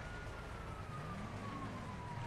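Police car siren in the GTA 5 video game, a steady wailing tone sweeping slowly under dense in-game noise, continuous for a couple of seconds at moderate distance.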